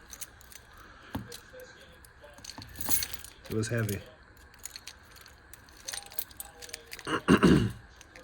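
Heavy bunch of keys on a keychain jangling in a few short metallic bursts, near and moderately loud, between stretches of someone talking.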